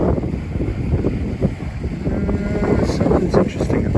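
Gusty wind buffets the microphone on a muddy river shore at autumn low tide, a steady roaring rush with a few faint knocks and scrapes near the end.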